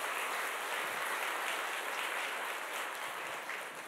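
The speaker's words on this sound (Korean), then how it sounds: "우리 이 사연자분을 위해서 한번 격려의 박수 좀 부탁드리겠습니다." A studio audience claps in encouragement for a cook after a request at an Atomy business talk: dense, steady applause held at an even level for four seconds, fading slightly toward the end with no talk over it.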